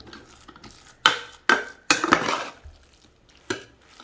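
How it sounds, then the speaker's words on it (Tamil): Cooked rice mashed with a metal ladle in a vessel for curd rice, heard as a few distinct scraping, clattering strokes against the pot with quiet gaps between them. "இதை கரண்டியால் நல்லா மசிச்சு விட்டுக்கலாம்"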